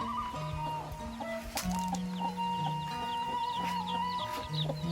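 A rooster clucks repeatedly in short, throaty bursts, close by, in a village in Sindangkerta, Indonesia, with faint background bird and farm noise.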